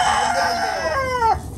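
A rooster, a small frizzle breed, crows one loud, close, drawn-out call that falls at the end, with a hen clucking briefly around it, in a rainy mini zoo.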